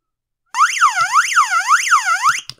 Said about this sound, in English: Flashes a light, runs a large, loud siren.